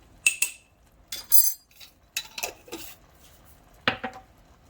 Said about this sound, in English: And I think I'm going to put a bit more cumin and cinnamon in as well. Get this all stirred up.